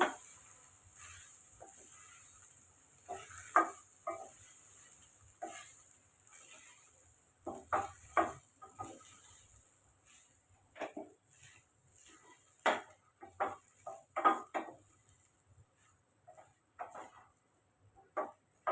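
Vegetable fried rice being turned and stirred in a pan at home, giving soft intermittent scraping and metallic clinks of a spatula against the pan, moderately quiet with irregular bursts throughout.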